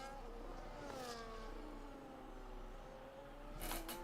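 Race cars at Bahrain in a racing game, engines whining with rising and falling pitch as cars sweep past, a steady moderate roar with a louder burst near the end.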